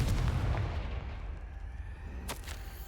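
A Confringo fire spell blast in Hogwarts Legacy erupts as a heavy, booming burst, then trails off into a rumbling decay, with a second sharp crack near the end.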